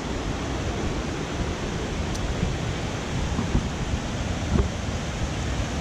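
Water rushes near a hydroelectric power station in a hill valley, a steady broadband roar like a fast stream, constant and moderately loud, with a few faint knocks and brief sounds on top.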